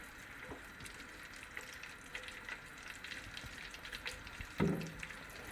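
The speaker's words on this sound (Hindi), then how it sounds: "हमने तब तक इसको फ्राई करना है जब तक हमारे लेमन का कलर चेंज ना हो जाए" Lemons fried in used cooking oil over high flame, a faint continuous sizzle with occasional light spatula scrapes and one louder knock near the end.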